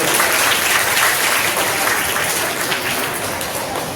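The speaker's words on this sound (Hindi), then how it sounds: "आप अपने लिए तालियां बजा दीजिए।" A crowd at a school Janmashtami folk dance performance bursts into dense, steady applause that holds strong for the full few seconds, easing only slightly toward the end.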